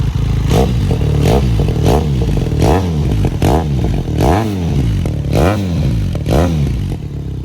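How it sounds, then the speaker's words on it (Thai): A 2018 Benelli TRK502 two-cylinder motorcycle engine revs up again and again, about eight rising-and-falling blips in steady rhythm, loud and close with no talking over it. "ต้องเรียกว่าเสียงคันนี้ นึกว่าสี่สูบเรียง มาแค่สองสูบเท่านั้น"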